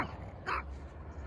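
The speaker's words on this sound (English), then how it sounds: "Very cross dogs." A single sharp bark from a dog in the foggy early morning near a river on the Te Araroa trail between Mercer and Rangiriri, faint and distant over a low background rumble.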